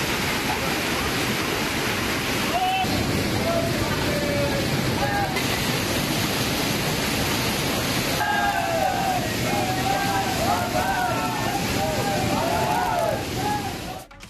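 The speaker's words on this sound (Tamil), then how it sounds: "புகழ்பெற்ற ஜடாசங்கர் தாம் கோவில் அருகே உள்ள அருவிகளில் நீர் ஆர்ப்பரித்தது." A waterfall near Jatashankar Dham temple, swollen after heavy rain, roars in a loud, steady, unbroken wash, with faint voices rising over it in places.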